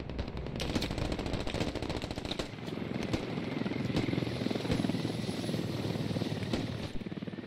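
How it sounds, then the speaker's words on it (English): A helicopter in a video game drones with a steady rotor thrum under rapid gunfire bursts, loud and continuous throughout. "We need to take down that helo."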